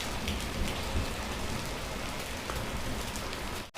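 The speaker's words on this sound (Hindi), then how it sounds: "देखो ओले बारी तेज़ होती जा रही है" Heavy hail and rain hammer down in an Uttarakhand village, a dense, steady roar of drops striking surfaces close by, with low rumbles of thunder mixed in and a brief sharp knock at the very end.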